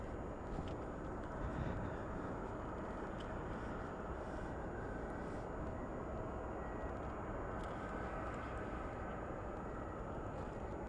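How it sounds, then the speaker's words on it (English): A Boeing 747 taking off at Anchorage Ted Stevens International Airport in freezing weather, heard as a steady, distant broadband engine roar that stays even throughout. "747, takeoff."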